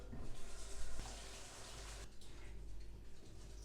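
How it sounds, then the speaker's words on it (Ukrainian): Cold tap water running steadily over cooked udon noodles in a kitchen sink or colander, a continuous close hiss and splash that shifts in tone partway through. "Локшина зварилась, тепер промиваємо холодною водою."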